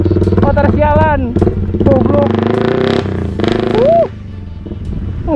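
A motorcycle engine revs loudly and close, its pitch repeatedly climbing and dropping in sharp bursts before easing off.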